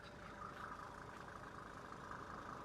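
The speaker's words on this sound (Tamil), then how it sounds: "இன்ஜின் சவுண்டை பார்த்துங்க" A vintage Mercedes-Benz with about 160,000 km on it idles steadily, a soft, even engine hum with a smooth beat that holds constant throughout, with no other sounds.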